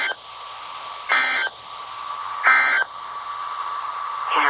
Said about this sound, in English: This has been a test of the NOAA Weather Radio Warning device.